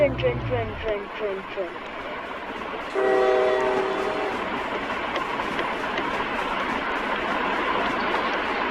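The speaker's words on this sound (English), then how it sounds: "Okay, there's a train." In a video game, a train horn blares in a steady chord over the rumble of a passing train, with a falling whistle-like tone just before it.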